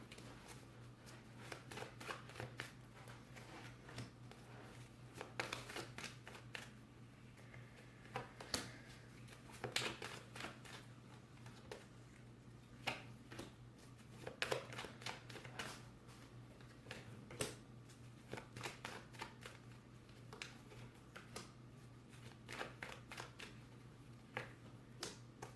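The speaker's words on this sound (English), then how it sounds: "And I don't turn over the cards until I pull out all of them." Tarot cards being shuffled and pulled from a deck make faint, scattered papery flicks and snaps, irregular and spread over a long quiet stretch, with a low steady hum underneath and no speech.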